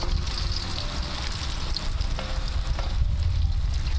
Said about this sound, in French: On commence avec les patates, on fait des oignons, puis du doré qu'on vient juste de pogner.